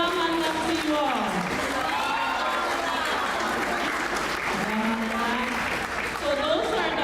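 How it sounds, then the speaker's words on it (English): Crowd applause for healthcare workers at a women's conference in Chuuk State, continuous clapping across a large room while a voice talks over it through a microphone with wavering, echoing tones. "let's all give them a round of applause"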